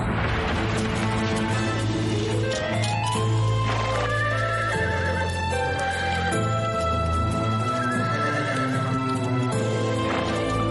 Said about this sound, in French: Quelle est cette curieuse bête? On appelle cela un cheval.